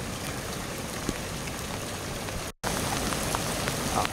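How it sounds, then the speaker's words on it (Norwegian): Heavy rain pours steadily during a river fishing trip in the Femundsmarka wilderness, a dense continuous hiss of drops hitting surfaces with a brief drop-out partway through and no voices. "Ja, nå regner det rimelig hardt."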